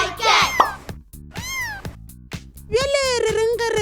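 A cat meows three times, with long, rising and falling cries separated by short pauses, while a rhythmic backing track plays underneath.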